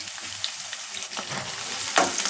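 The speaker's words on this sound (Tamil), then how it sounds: "இப்போ பெரிய வெங்காயம் வெட்டி வச்சுருக்கேன். இதை எண்ணெய் நல்லா காஞ்சிடுச்சு. இப்போ அதில் போட்டுக்கிறேன்." Chopped onions dropped into hot oil and frying, a steady close sizzle with crackling bursts that swell near the end.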